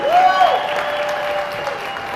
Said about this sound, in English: I'd like you to give them a round of applause and show them some appreciation